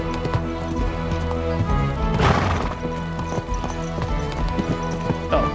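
Horse hooves clip-clop in a steady rhythmic gait in Kingdom Come: Deliverance 2, close and clear over a constant game soundscape.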